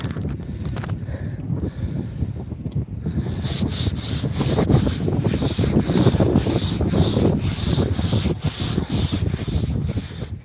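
Sand is brushed and rubbed off a camp surface at a campsite, a continuous close scraping and swishing with rhythmic strokes that grow steadier after the first few seconds, lightly touched by wind.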